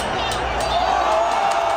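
A UFC arena crowd roars and cheers after a knockout, a continuous wash of excited voices with scattered whoops, loud and sustained throughout.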